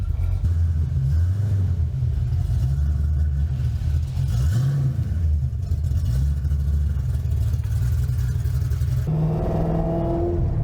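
A Ford Mustang Fox Body coupe's engine rumbles loudly and steadily up close, its deep idle note rising and falling with a few revs before settling into a lower, smoother tone near the end.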